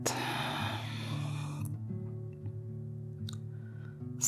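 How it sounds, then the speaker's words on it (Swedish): A long, steady exhale during pranayama breathing meditation lasts about a second and a half, then fades into quiet, with a low sustained musical drone underneath throughout. "och andas ut."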